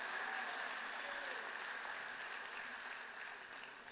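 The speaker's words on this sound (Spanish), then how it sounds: "Tres gente aplaudiendo," A church congregation applauds during a service, a dense, steady wash of clapping from a large crowd that holds evenly for several seconds and thins slightly at the end.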